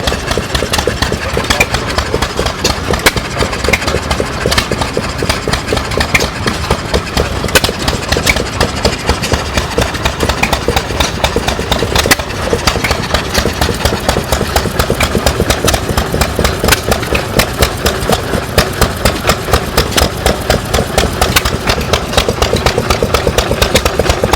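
A White-made stationary engine runs steadily at an old threshers farm show demonstration in Mt. Pleasant, Iowa, with a loud, rapid, even chugging rhythm that continues without pause throughout, heard close up.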